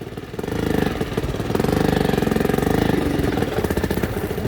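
A motorcycle engine on a riverside path chugs close by with a rapid, even pulsing that rises after the first half-second and holds steady, with no talk.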